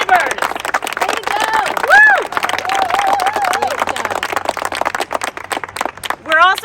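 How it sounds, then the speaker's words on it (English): Audience applause and cheering for the Elmwood Tenant Union leaders at a gathering outside court, clapping rising in loud bursts near the start and end while voices shout and talk over it throughout. "let's give them a huge round of applause for standing up to a bully and building a union with their neighbors"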